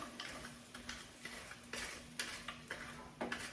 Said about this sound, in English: I'm just gonna go ahead and stir this around here.